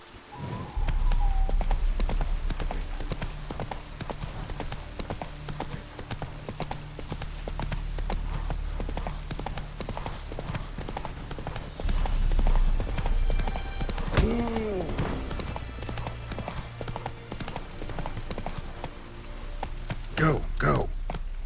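Roach, Geralt's horse in The Witcher 3, gallops with a fast, steady clip-clop of hooves running close and loud, briefly breaking into a whinny midway, while a voice talks over the game sounds.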